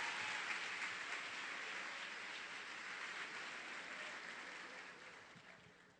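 A church congregation claps steadily in a dense, hissing wash of applause that gradually fades toward the end, with no voices on top.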